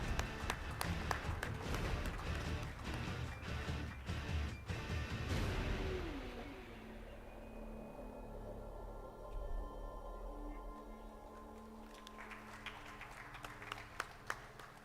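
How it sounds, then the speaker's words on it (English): An audience at a seminar claps in a dense round of applause that is loud at first, then thins and fades to scattered claps. "Let's have a huge round of applause."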